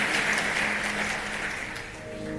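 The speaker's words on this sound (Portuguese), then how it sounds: "Forte aplauso para o nosso casal modelo." An audience applauds, a dense, even wash of clapping that holds steady and fades slightly near the end.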